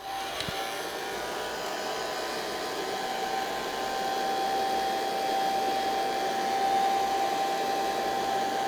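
A heat gun set to low blows steadily while warming a vinyl decal on a Porsche's paint, a constant airy whoosh with a faint thin whine, close and even throughout with no talking.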